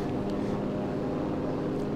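A steady propeller airplane engine drones in Enlisted, a continuous low buzzing hum holding at even loudness without a break.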